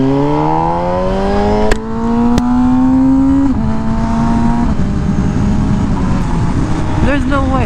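An MV Agusta Rush motorcycle with a slip-on exhaust runs loud and close while riding, its engine pitch rising steadily through the gears with brief drops at the shifts, under wind noise.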